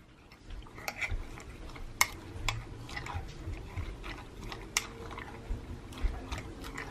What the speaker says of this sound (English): I'm mixing it all together